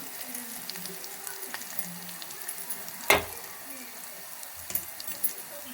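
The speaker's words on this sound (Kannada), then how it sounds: "ಪ್ಯಾನಲ್ಲಿ ಎಣ್ಣೆ ಇದೆ ಸ್ವಲ್ಪ ಬೆಳ್ಳುಳ್ಳಿ ಹಾಕ್ತಾ ಇದ್ದೀನಿ ಸ್ವಲ್ಪ ಕರಿಬೇವು ಸ್ವಲ್ಪ ಹಿಂಗ ಹಾಕ್ತಾ ಇದ್ದೀನಿ" Garlic and curry leaves sizzle softly in hot oil in a pan for an oil-brinjal stir-fry, a steady quiet crackle with a sharp clink of a utensil midway and a few light knocks after.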